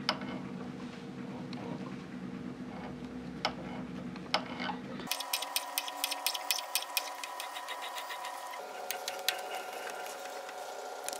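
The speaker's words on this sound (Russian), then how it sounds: "В отверстии нарезаю резьбу" Machine hum with sharp, irregular clicks and ticks as an M5 thread is cut into a metal hole; the drone changes character partway through.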